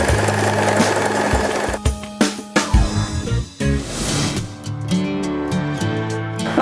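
Janome 3016 sewing machine stitching a backtack, a fast rattling needle run close by, then a few separate chunky clacks as it reverses, followed by another steady burst of stitching.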